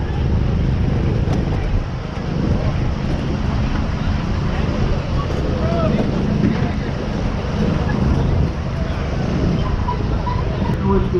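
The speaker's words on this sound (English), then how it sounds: "starting to sprinkle, getting pretty windy" Strong wind roars steadily across an outdoor event track in Holden, Missouri as light rain begins, a dense low rumble lasting throughout, with some vehicle engine noise mixed in.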